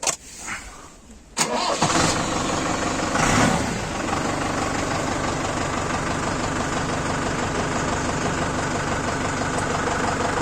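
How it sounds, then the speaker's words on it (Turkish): A tractor engine cranks and catches, then settles into a steady, loud diesel idle that rumbles continuously to the end. "Çalıştıralım traktörümüzü."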